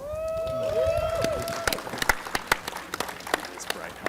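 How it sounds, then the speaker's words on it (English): A conference audience applauds a panel at a VR conference and expo, with clapping building into scattered sharp claps over a tonal, voice-like sweep near the start. "let's give them a warm round of applause"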